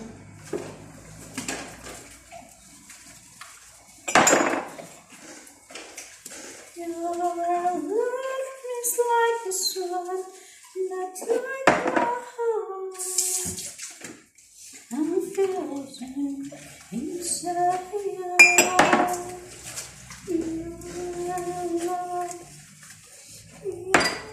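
Dishes being washed by hand: intermittent clinks and clatter of plates and pans with splashing water, while someone talks on and off throughout.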